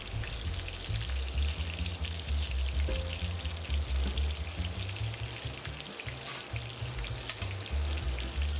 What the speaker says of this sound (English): Then flip and sear on both sides.